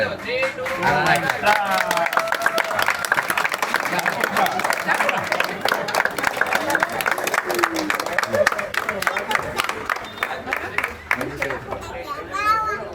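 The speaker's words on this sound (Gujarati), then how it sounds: "હાલો તાળી પાડજો ભાઈ બધા છોકરીઓ" A group of girls clapping their hands at a celebration, a dense rapid patter of claps running continuously close by, mixed with lively chatter and children's voices.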